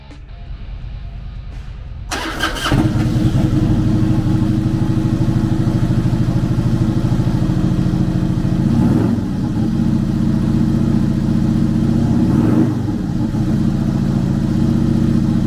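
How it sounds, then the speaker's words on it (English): A 2003 Harley-Davidson Softail Springer, 100th Anniversary edition, with an 88 cubic inch V-twin, fires up after a quiet start and settles into a steady, loud, close rumbling idle with a couple of brief throttle blips. "the Softail Springer is powered by an 88 cubic inch V-twin motor"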